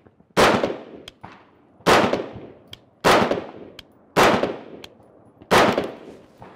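A carbine fires five loud, sharp gunshots about a second apart while a red dot sight is zeroed at a center chest box target. Each shot leaves a short decaying echo and there is no talk.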